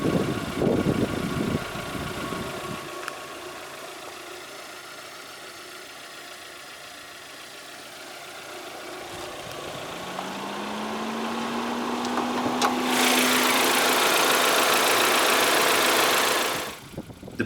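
A 2012 Proton Prevé 1.6 with the CamPro CFE engine idles after start-up, a steady low hum that rises into a rising whine and a louder whoosh before cutting off abruptly.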